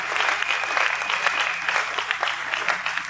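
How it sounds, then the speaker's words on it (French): A church congregation at a French-language sermon applauds and cheers steadily, dense clapping filling the hall at a constant level for the whole stretch. "On peut acclamer très fort."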